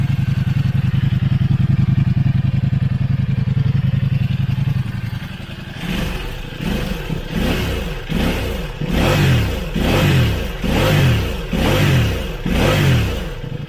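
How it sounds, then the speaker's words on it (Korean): A Ducati Multistrada V4 S motorcycle engine with a small stock muffler idles steadily, then is revved repeatedly in a rhythmic series of short throttle blips, its exhaust fairly subdued and close. "머플러가 굉장히 조그매요 조그매서 소리가 좀 클 줄 알았는데 의외로 굉장히 조용해요"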